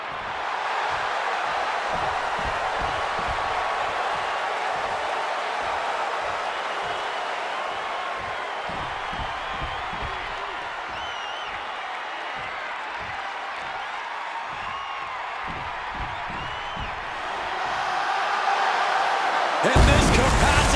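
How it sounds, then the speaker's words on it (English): A capacity crowd roars continuously in a wrestling arena at a live televised show, sustained loud cheering and chanting with rhythmic stomps and claps underneath, swelling louder near the end. "And this capacity crowd just exploded."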